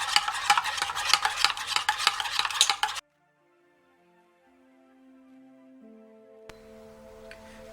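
A utensil stirs a melted carrot soap mixture in a bowl, making rapid, busy scraping and clinking for about three seconds before the sound cuts to near silence with faint background music.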